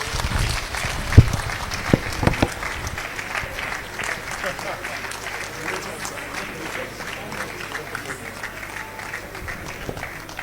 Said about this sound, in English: A round of applause for His Excellency, Ambassador Akinremi Eniola.